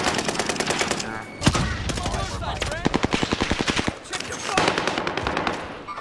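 Automatic weapon fire in Call of Duty Warzone on Rebirth Island, loud rapid bursts of shots repeating through the clip, with a brief pause midway, and a voice briefly over the firing.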